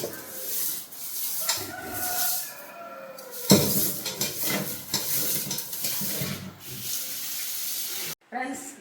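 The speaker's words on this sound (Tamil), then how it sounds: "அதை வந்து இப்போ கழுவ போகிறேன். கல்லுப்பு போட்டு கழுவ போகிறேன்." Fish being washed and rubbed with rock salt in a vessel, with close, irregular scraping, gritty rubbing and splashing water against metal, in short uneven bursts.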